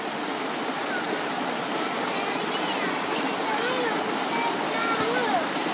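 Clear stream water rushes and splashes in a steady, close, continuous flow, with children's and adults' voices chattering and exclaiming over it.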